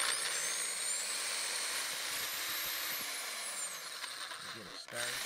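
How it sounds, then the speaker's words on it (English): A diamond grit hole saw drills a hole in a floor for a door barricade, giving a steady high grinding hiss throughout, with a brief knock near the end. "And we're going to use a diamond grit hole saw."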